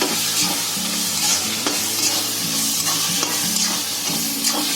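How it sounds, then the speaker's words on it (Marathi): Spicy misal usal stirred with salt in a hot pan at a street stall, giving a steady sizzle with rhythmic spoon scrapes throughout, close and fairly loud. "हात मोजून 3 चमचे घेतले कारण तिखट जास्त कोण खाणार नाही. आणि चवीनुसार खाली 1च चमचा मीठ टाकणार. हे चांगला हलवायचं."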